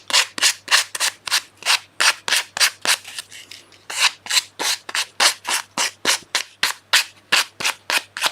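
A small wooden piece is sanded by hand in brisk, even back-and-forth strokes, about two or three rasping passes per second, close and loud with a short pause midway and no talking.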